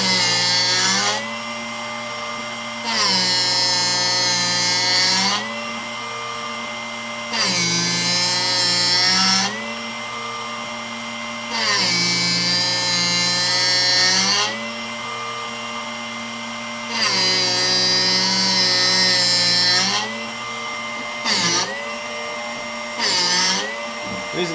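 A Drill Doctor sharpener grinds a drill bit in repeated long strokes, a whining motor hum swelling into harsher grinding bursts every few seconds with brief quieter gaps between passes.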